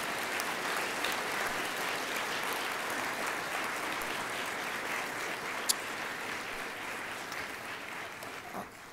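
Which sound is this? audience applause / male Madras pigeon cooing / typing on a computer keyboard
audience applause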